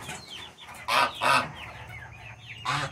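Geese and other farm fowl honk and cluck in their pen at night, with a few loud calls close by over a busy background of softer bird noises.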